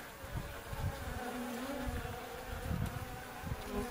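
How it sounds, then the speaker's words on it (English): Honeybees from a small, dwindling cluster buzz softly in an open hive during inspection, a close, steady hum with faint rises and falls. "It looks like the cluster has dwindled back down to just a very small group of bees."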